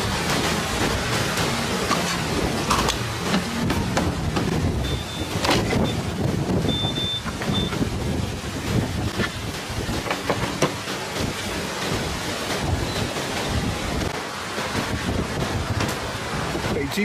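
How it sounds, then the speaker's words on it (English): Strong wind roars and buffets a nearby camera microphone continuously at a gas station while a car is being fueled, a dense rumbling rush with faint background sounds underneath. "I hope y'all don't hear all this wind in the camera mic."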